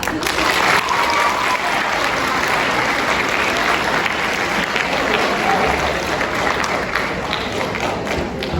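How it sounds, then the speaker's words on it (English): A school awards ceremony crowd of students and families applauds in a dense, continuous wash of clapping that stays loud and even, with murmuring voices underneath. "Now clap."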